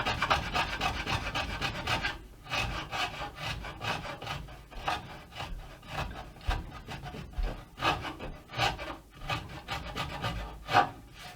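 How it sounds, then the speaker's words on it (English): A hand file rasps back and forth across wood while shaping a wooden guitar neck joint, a steady run of close scraping strokes with no talk. "I really think it's good to have this sort of file or something similar."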